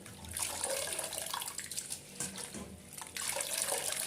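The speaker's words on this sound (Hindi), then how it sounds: "दो से 3 बार इसको पानी से अच्छे से वॉश कर लेना है फ्रेंड्स।" Fresh spinach is rinsed under running water for a potato, pea and spinach dish: splashing, gurgling tap flow with uneven surges and a stronger gush toward the end.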